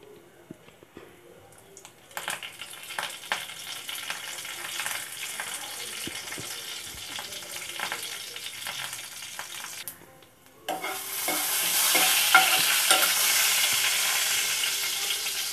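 Mustard seeds, fennel and curry leaves crackle in hot oil with light pops and stirring, then a loud, steady sizzle bursts in and holds to the end.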